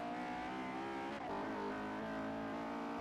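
A race car engine in Forza Motorsport 4 drones at high revs on a bumpy track, a continuous buzzing whine with a slight dip and recovery partway through, no talking.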